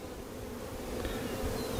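Honey bees buzz steadily inside a hive, a dense, even drone close by that holds without pause and swells slightly toward the end.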